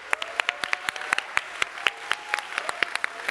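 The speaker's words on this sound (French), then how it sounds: "Est-ce qu'on peut tous l'applaudir parce qu'elle a réussi à la caser?" Scattered applause from a small workshop audience, a few people clapping irregularly at close range, sparse and fairly light, with no voices over it.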